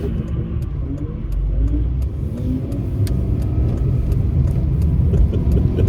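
At an autocross, a car is driven hard to warm its tires, its engine rumbling and revving loudly in sustained, surging bursts with faint squeaks over the top.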